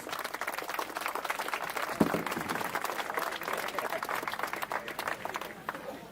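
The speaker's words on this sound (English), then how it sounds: "Let's all give a big round of applause." An audience applauds at the RESO 2026 closing function of Manipur Institute of Technology, a sustained patter of many clapping hands heard at moderate distance, steady throughout, with a voice briefly over it.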